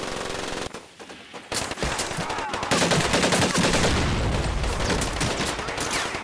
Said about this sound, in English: Where am I getting shot from right now?